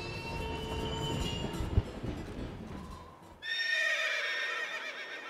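A horse whinnies loudly in Princess Peach Showtime!, then the sound cuts to a brighter, high-pitched neigh after a brief dip, with synthetic, game-like clarity.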